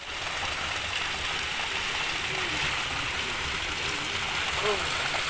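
Water pours steadily from a village spring fountain in rural Turkey, a constant close splashing hiss that runs without a break.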